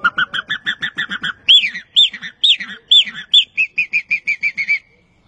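A man imitates the crequexé bird with about two dozen quick whistled chirps, a rapid run, then slurred rising notes, then another fast run, loud and close with no talking.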